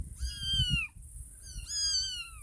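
Two small homeless kittens, abandoned by a fence, give high, drawn-out meows close by, one long call, a short pause, then another, over a faint low rumble.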